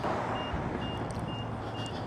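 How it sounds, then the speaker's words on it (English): Repeated short, evenly spaced high warning beeps from an electric unicycle signal that it is reaching its speed limit, sounding over steady road and wind rumble while riding. "Now, I'm getting mad beeps. That's your warning."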